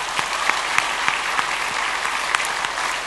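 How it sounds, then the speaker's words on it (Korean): A church congregation at Sunday worship applauds to welcome new members, a steady, even wash of clapping from a large room that holds at constant loudness throughout, with no voices over it. "새가족을 위해서 박수로 환영하며 축복하겠습니다"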